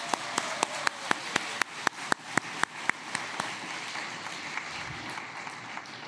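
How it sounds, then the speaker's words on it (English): Applause from an audience at a university alumni talk event, opening with loud, evenly spaced individual claps near by, then blending into a softer, steady round of clapping that fades slightly toward the end. "A round of applause again for all of these participants."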